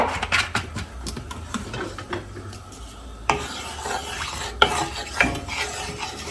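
Two tablespoons of vegetable oil heat and sizzle in a skillet, a close crackling hiss mixed with scraping and light metal clatter from stirring.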